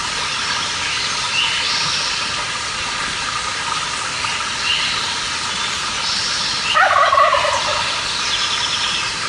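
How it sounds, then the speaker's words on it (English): A wild turkey gobbler gives one rapid, rattling gobble late in the recording over a steady outdoor hiss, moderately distant and clear. "That's a gobbler."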